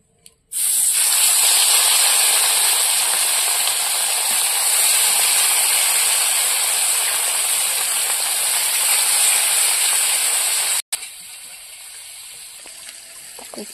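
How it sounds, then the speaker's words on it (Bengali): Small Japanese puti fish sizzle in hot oil over a wood fire with a loud, steady frying hiss that lasts about ten seconds, then stops abruptly and leaves a quieter crackle. "এবার মাছগুলো ভেজে নেব।"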